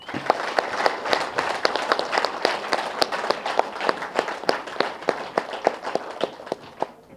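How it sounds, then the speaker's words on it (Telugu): An audience at a Telugu youth event claps in a fairly sparse, irregular patter of individual hand claps, moderately near and steady for several seconds. "యూత్ అందరికీ ఒకసారి గట్టి క్లాప్ చేద్దాం"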